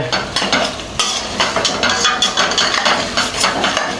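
Green chilli paste hits a hot frying pan for mutton marag, stirred with a spoon scraping the metal in a dense, steady sizzle and clatter close up, with no talk.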